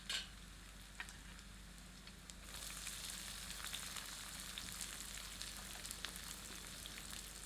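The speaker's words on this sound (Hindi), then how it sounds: "अब हमें प्याज को भूनकर थोड़ा पारदर्शी यानी कि ट्रांसलूसेंट कर लेना है।" Chopped onions frying with garlic and ginger in a pan for paya (goat trotter) soup, a steady soft sizzle that swells after a light clatter at the start and keeps on alone.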